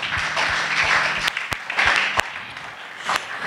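A church congregation applauds in a dense wash of clapping, with a few sharp louder claps and thumps standing out over about three seconds.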